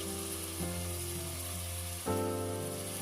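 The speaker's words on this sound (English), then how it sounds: "Now saute the vegetables for about 1 or 2 minutes." Fresh peas, tomatoes and vegetables sautéing in a pan, a continuous near sizzle that swells briefly near the end as they are stirred.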